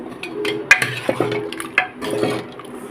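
A pot of Chettinad-style idli sambar being stirred with a metal spoon, producing sharp clinks against the pot rim amid soft, wet sloshing, close and intermittent, without speech.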